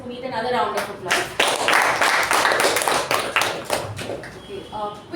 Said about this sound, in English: Let's give Toastmaster Punith another round of applause.